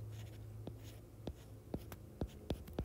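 Someone writes out math by hand. Faint pen strokes give a few soft scratches and taps at an uneven pace over a quiet background.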